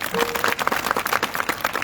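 Audience clapping at a devotional kirtan gathering, a dense, steady patter of many hands continuing throughout at moderate loudness.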